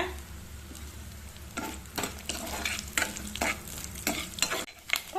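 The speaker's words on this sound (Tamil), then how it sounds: "அதில் இப்போ ஃபர்ஸ்ட் இந்த தேங்காயை நம்ம வறுத்து எடுத்துக்கலாங்க. இதுலயே முந்திரியும் போட்டுக்கலாங்க." Grated coconut and cashews roast in ghee with a close sizzle, while repeated scraping stirs of a spoon against the pan come in a loose, steady rhythm.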